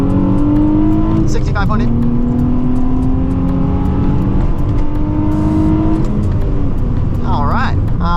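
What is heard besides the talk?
Nissan 350z accelerating from second gear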